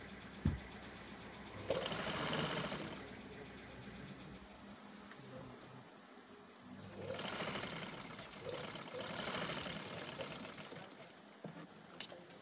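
A sewing machine runs through kurti sleeve fabric in two faint, moderate bursts of whirring stitching, with quiet handling noises and soft clicks between them.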